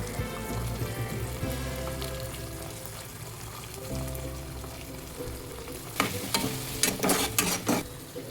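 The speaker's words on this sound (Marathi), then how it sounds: "मी इथे दोन चमच टोमॅटो केचप एक चमच शेजवान चटणी एक चमच सोया सॉस आणि दोन चमच रेड चिली सॉस घालून घ्यायचा आहे" Sauces (tomato ketchup, Schezwan chutney, soy sauce and red chili sauce) being stirred in a sizzling pan for paneer crispy, a steady low frying hiss with louder scraping stirs near the end.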